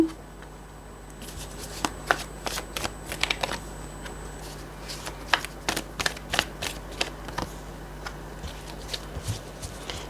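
Tarot cards being shuffled during a reading, quick crisp riffling flicks and card slaps in irregular bursts over a low steady hum, close by, with no one speaking.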